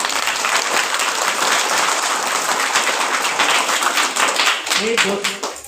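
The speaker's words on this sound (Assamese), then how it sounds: "আকৌ এবাৰ হাত চাপৰি মাৰা চবেই।" A gathering at a school's 5 June celebration breaks into sustained applause, with many hands clapping together loudly and a voice rising briefly near the end.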